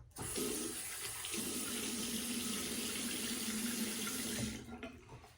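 Tap water runs steadily into a sink while rinsing up after a shave, a loud, continuous close splashing rush that starts abruptly and fades at the end.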